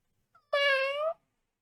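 A person's voice imitates a cat, giving one drawn-out, tonal meow that sits close and clear with silence on either side.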